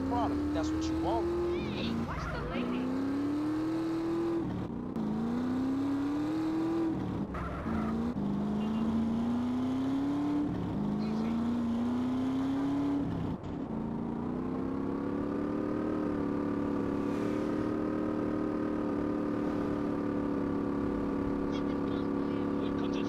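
A car driven in GTA San Andreas Definitive Edition revs up repeatedly, its engine pitch climbing and dropping with each gear change before settling into a steady cruising drone.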